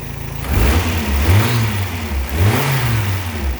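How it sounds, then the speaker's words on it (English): A car with a Jasper engine idles briefly, then revs up strongly twice in quick succession, a close, throaty roar with no talking. "Sounds strong. This is a Jasper engine."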